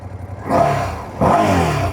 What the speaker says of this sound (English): let's do a bit of a sound test so you can hear what the stock exhaust sounds on the Ducati